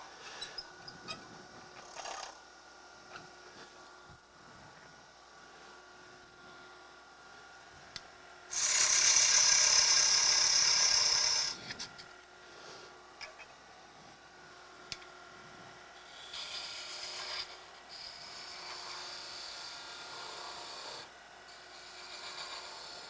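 A woodturning tool cuts the nib of a wooden scoop on the lathe, giving a quiet scraping hiss that swells into a louder, sustained whine for a few seconds, then softer cuts, with light taps between.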